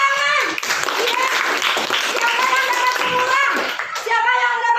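Children in a classroom clap together in a quick, lively burst, close and fairly loud, while a teacher's voice and children's voices carry over the clapping.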